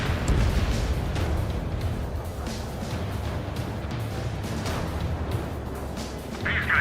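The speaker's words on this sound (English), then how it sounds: "Strider 1, missile away." In the Ace Combat 7 jet combat game, a missile fires and strikes, heard as a continuous heavy roaring rumble with booming bursts layered over engine drone, loud and dense throughout.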